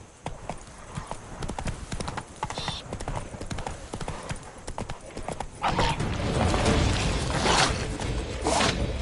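A horse gallops in The Witcher 3 with brisk, continuous clip-clop hoofbeats and a short whinny, growing louder and busier in the second half, with speech over it.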